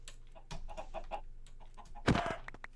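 Chickens clucking in Minecraft, a few short game-style fowl calls scattered across the moment, with one louder, sharper burst near the end over a faint steady background.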